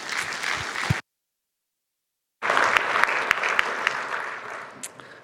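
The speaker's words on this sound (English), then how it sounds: "So please give them a warm round of applause." An open source conference audience claps for the presenters, a moderate burst that cuts to silence, then resumes with scattered sharp claps and fades.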